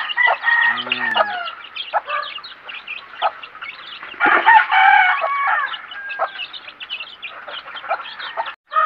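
Farm chickens cluck and squawk repeatedly at close range in a rural morning yard, with a rooster crowing partway through among the busy, overlapping calls.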